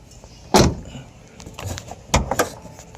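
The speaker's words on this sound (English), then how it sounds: "So as I open the door again" A 2011 Jeep Wrangler door clunks open with a sharp latch click, followed by softer rustling and a second sharp knock, close and fairly quiet.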